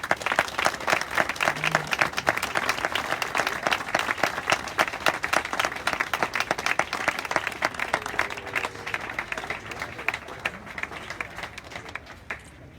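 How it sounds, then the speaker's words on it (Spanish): A crowd at an antifascist memorial event claps for antifascist comrades in sustained, dense applause that stays steady and fairly loud before tapering off slightly at the end. "Un aplauso para ellos."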